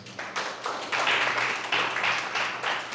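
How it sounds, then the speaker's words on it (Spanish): An audience claps for José: steady, dense applause from many hands, fairly close and continuous, swelling slightly midway and carrying on for the full few seconds with no talking. "Un aplauso para José."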